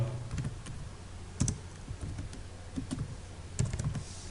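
Keys tapped on a computer keyboard while a layer name is entered in AutoCAD 2006, a few scattered clicks and short bursts at close range in a quiet room, no voices.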